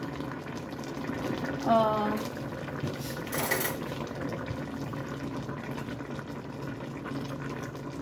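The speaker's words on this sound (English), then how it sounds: "So we're just gonna let that simmer like that." A pot of chicken adobo bubbling and sizzling steadily at close range, a continuous soft gurgling hiss with a brief voice near the start.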